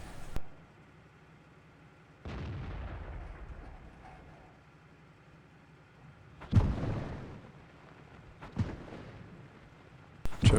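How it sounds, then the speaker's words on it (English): Churchill 3 tank cannon shots in World of Tanks on the Prokhorovka map, several heavy booming blasts spaced seconds apart with rumbling decay, no talking. "Churchill 3's randomly shooting into bushes"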